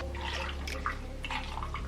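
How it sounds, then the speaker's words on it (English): Vodka poured over ice into a cup for a Christmas cocktail, a short close trickle of liquid with light splashing against the ice, steady and fairly quiet throughout. "Pour a little liquor in there."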